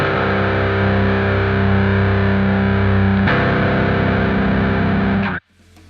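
A bass guitar played through a guitar overdrive pedal holds a sustained, heavily distorted note with a thick, gritty buzz, shifts to a new note partway through, then cuts off abruptly, with no talking.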